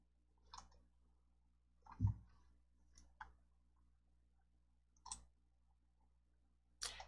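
Sparse mouse clicks while formatting in PowerPoint, about six short sharp clicks spaced irregularly over quiet room tone, close and fairly soft, with no voice.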